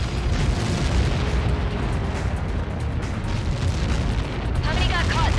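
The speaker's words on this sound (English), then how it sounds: "How many got caught in that explosion?" A huge explosion in the jet combat game Ace Combat 7, a dense, sustained roaring rumble that fills the whole stretch loudly, with radio chatter mixed in near the end.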